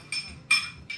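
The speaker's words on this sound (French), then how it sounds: "mélanger votre café" Spoon clinking against the glass while stirring hot coffee with sugar for an Irish coffee, three short bright chimes spaced apart, close and clear.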